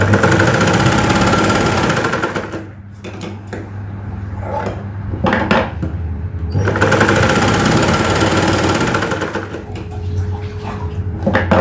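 A sewing machine stitches a blouse shoulder seam, running loud and close in long whirring stretches that pause briefly and then resume.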